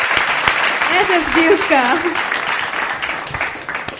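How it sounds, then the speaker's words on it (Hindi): Studio audience applause at a Hindi talent show semifinal, a dense steady wash of clapping and cheering that runs the full length under an excited announcer's voice. "प्लीज जोरदार तालियों से एक बार फिर से अलविदा कह दीजिए"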